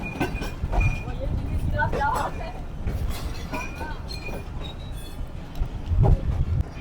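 Karakoram Express pulling into the platform at Hyderabad railway station in Pakistan, a steady rumble of rolling wagons with clinks and rattles, and a louder thump near the end, while someone talks over it.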